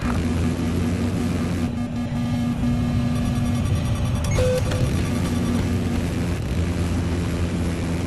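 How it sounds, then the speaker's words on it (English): An enemy jet in the video game Battlefield 4 roars steadily overhead, a loud, continuous engine drone mixed with game ambience and a brief tonal blip midway. "I spotted an enemy jet!"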